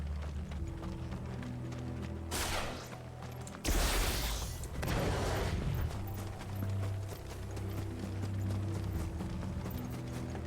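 Horse hooves clopping at a steady pace amid rattling, mechanical clatter, with a couple of louder whooshing bursts partway through, in the video game Final Fantasy XVI.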